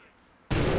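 A grenade explosion in the Crackdown video game erupts suddenly as a single loud, broadband blast after a quiet lead-in, sustaining its roar to the end.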